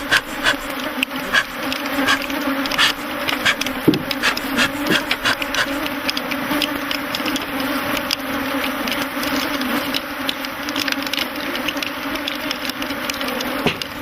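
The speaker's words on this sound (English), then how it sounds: "there must be several million bees swarming around the men" A dense, continuous buzzing hum of a huge swarm of honeybees around frame hives in Africa, steady and loud throughout with no talk.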